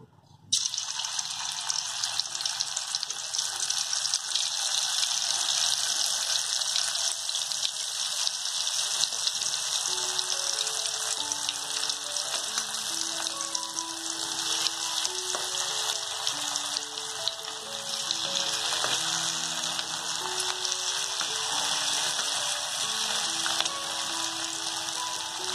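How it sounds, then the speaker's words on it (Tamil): Marinated prawns sizzle steadily in hot oil in a pan, a dense, even hiss that carries on loudly and unbroken throughout with no talking. "இப்போ வந்து நம்ம மேரினேட் ஆன எறாலாம் அதில் போட்டுடலாம்"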